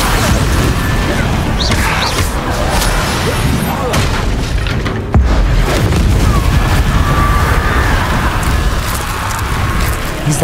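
Confringo fire spell blasting in the Hogwarts Legacy video game, heavy booming explosions and crashing impacts layered over constant battle noise, loud and dense throughout with a brief dropout midway.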